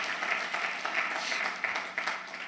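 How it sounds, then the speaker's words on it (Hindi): An audience at a motivational talk claps together in a dense, steady burst of applause that lasts the whole stretch, with no voice over it. "तो ताली बजा लीजिए"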